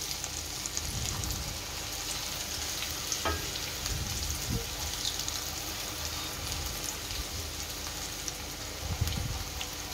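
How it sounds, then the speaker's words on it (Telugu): Idli batter punugulu fritters frying in hot oil, a continuous close crackling sizzle with light popping bubbles throughout and an occasional soft clink of a utensil. "పిండి కలిపాక కాగిన ఆయిల్లో చేతడి చేసుకుని ఒక్కొక్కటిగా చిన్న చిన్న బోండాలుగా వేసుకున్నాము"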